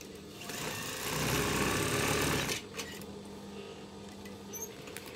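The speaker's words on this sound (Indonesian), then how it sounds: "Sekarang kita jahit, kita buktikan." A sewing machine stitches curtain fabric in one close, steady whirring run of about two seconds, then stops, leaving quiet room noise with a few faint handling sounds.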